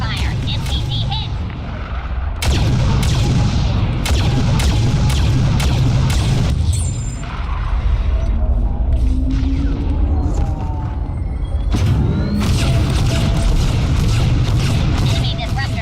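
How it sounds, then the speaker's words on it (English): Disruptor fire and explosions fill a battle in the Star Wars Battlefront II video game on Kashyyyk, with steady rumbling booms, sharp repeated blasts and constant heavy low roar throughout. "Incoming disruptor fire."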